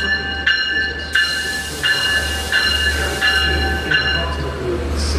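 A four-car Long Island Rail Road Main Line commuter train at a station, with a low rumble and repeated bright tonal chimes or squeals recurring every second or so, fairly loud.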